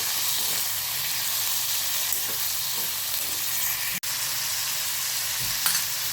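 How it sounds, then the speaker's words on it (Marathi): Chopped onion shallow frying in oil in a pan, a steady close sizzle that holds evenly throughout, with a sharp click about two thirds of the way in and no talking. "कांदा आपण शॅडो फ्राय करून घेऊयात"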